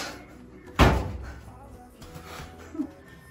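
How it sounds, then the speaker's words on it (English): A door is taken off during a laundry room makeover in a mobile home, with one sharp, loud wooden thud followed by quieter knocks and handling noises, and people talking faintly around it. "We take off the door"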